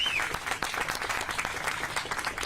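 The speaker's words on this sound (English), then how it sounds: "Let's give her another round of applause." An audience applauds a speaker at a celebration of the Americans with Disabilities Act anniversary in Roanoke, a dense, even wash of clapping that holds steady for a few seconds.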